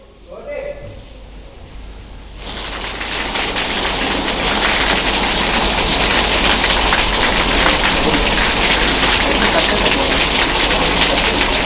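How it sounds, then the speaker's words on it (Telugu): Heavy rain pouring down in Hyderabad, starting after a quieter opening with faint sounds and then becoming a loud, dense, continuous hiss of rainfall that holds steady to the end. "చాలా అర్లీగా వర్షాలు మొదలవుతున్నాయి, భారీ వర్షాలు పడుతున్నాయి."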